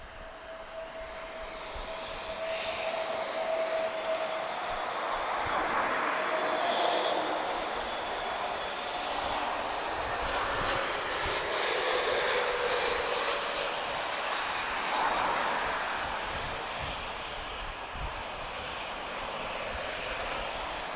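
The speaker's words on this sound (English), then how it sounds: "Beautiful touchdown as always from TAP Air Portugal." A TAP Air Portugal airliner touches down at Lisbon Airport, a sustained whooshing jet rumble that swells and fades at mid distance over about twenty seconds.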